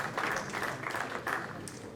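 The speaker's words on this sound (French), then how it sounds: "Allez, on applaudit les deux boxeuses." Audience applause for two female boxers at a kickboxing weigh-in, a steady wash of clapping that swells and dips across the moment, with some background voices mixed in.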